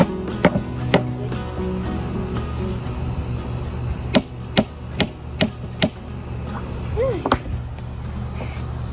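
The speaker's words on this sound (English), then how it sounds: "I gotta hammer that" Sharp, distinct hammer blows strike irregularly while beds are built in a beach cottage under renovation, a few spaced apart then several in quick succession, over a steady low background hum.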